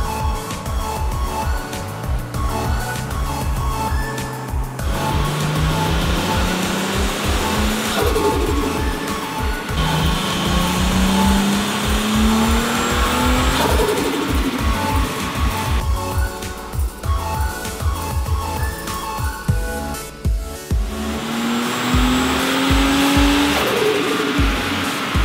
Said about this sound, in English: begins to apply more load and RPM to the engine